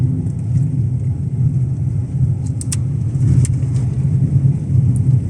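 Car with Antares studded 175/R14 tires driving along a highway in a blizzard, heard from inside as a steady low engine and road rumble with faint higher rattles, continuous and fairly loud.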